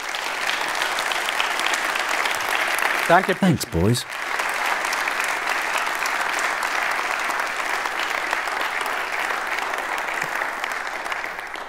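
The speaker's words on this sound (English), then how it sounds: "so please give them a round of applause." An audience claps steadily after a keynote and demo presentation, a broad, even wash of applause lasting many seconds. A nearby voice briefly speaks over it with a short thumping handling noise partway through.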